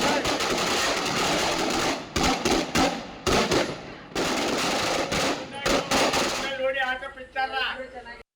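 Strings of firecrackers burst in rapid, loud, machine-gun-like volleys with brief gaps, set off by JDS party workers at a welcome rally in Holenarasipura, Hassan; crowd voices rise as the bursts thin out near the end.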